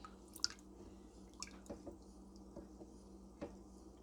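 Yogurt starter being stirred into a pot of milk at home, a quiet run of small wet clinks and sloshes at irregular intervals, close and faint with no voices.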